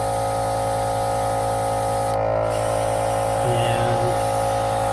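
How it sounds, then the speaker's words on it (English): An airbrush sprays paint onto a paper towel, giving a steady hiss over a constant compressor-like hum, with a brief change in tone near the end. "I will just spray onto my paper towel here,"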